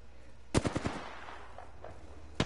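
Video game gunfire: a quick burst of four or five sharp shots, then a single shot a moment later, close and loud over faint background noise.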